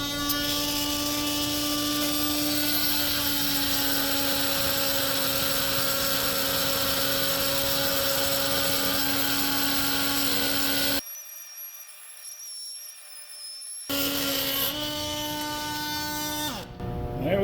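Carbide oscillating saw blade with a TiAlN coating grinding through a thick bolt, a loud steady buzzing whine that runs continuously, cuts out briefly, then resumes near the close.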